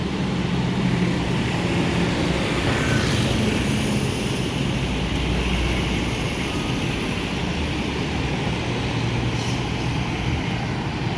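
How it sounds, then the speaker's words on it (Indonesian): A Ramayana bus, a Jetbus 5 model, idles its engine at a crowded bus terminal, giving a steady low rumble that carries on evenly throughout under a wash of ambient noise. "Ramayana udah ngidupkan mesinnya atau mau berangkat"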